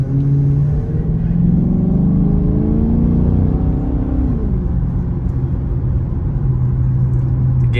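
A 2007 Dodge Magnum SRT8 with the 6.1 Hemi V8 and 48k miles pulling away on a test drive, its deep engine rumble rising in pitch as it accelerates, then settling to a steady, loud cruising drone.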